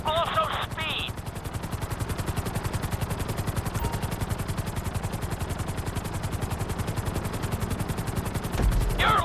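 A helicopter in a video game flies steadily close by, its rotor chopping in a fast, even, continuous pulse, with brief voice or game sounds at the start and end.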